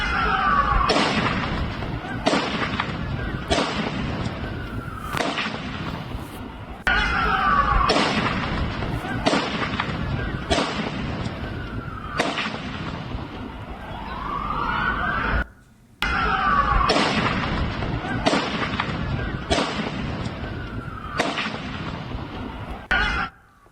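Bursts of gunfire crack out in quick succession during a terror attack in Sydney, repeating through the whole stretch, while sirens wail faintly in the background.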